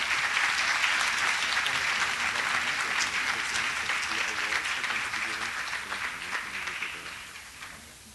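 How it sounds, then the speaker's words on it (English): A room full of people applauds at an award ceremony, dense sustained clapping that gradually tapers off while a voice speaks underneath. "Give them a nice round of applause."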